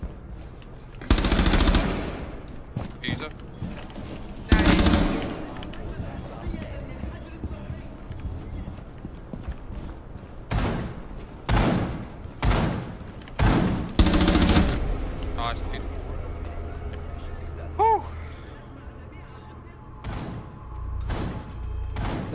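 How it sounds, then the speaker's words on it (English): Scattered loud shotgun blasts in a Rainbow Six Siege ranked match on the Border map, several sharp single bangs spaced seconds apart with quieter game noise and some talking between them. "All I hear was the shotgun."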